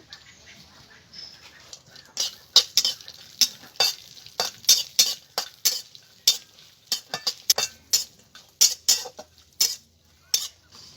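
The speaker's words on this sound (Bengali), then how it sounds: "এখানে আমি নিয়েছি কাজু বাদাম আর কিশমিশ এগুলোকে আমি ঘিয়ে ভিজে নেব" Cashews and raisins fry in ghee for bread halwa, heard as short, sharp bursts of sizzle and clatter in an uneven rhythm, with quiet gaps in between.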